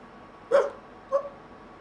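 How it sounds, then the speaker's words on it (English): A small chihuahua gives two short, sharp barks about half a second apart, fairly close and alone in an otherwise quiet indoor room. "Why is she barking, honey?"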